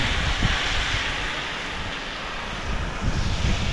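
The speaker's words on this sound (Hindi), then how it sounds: "यहाँ पे पाइप फट गया है, तो झरना जैसा काम करेगा।" Water gushes from a burst pipe beside a pilgrimage path along the Narmada, a loud, steady roar like a small waterfall, close and continuous with slight surges.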